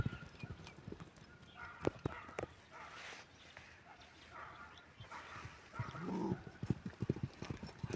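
A horse's hooves clip-clop steadily and faintly at a distance, with a dog barking at moments and faint voices in the background.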